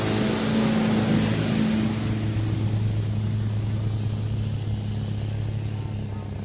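A motorboat runs on the river by the Mon Bridge at Sangkhla Buri on a fine morning, its steady engine drone loud and continuous throughout.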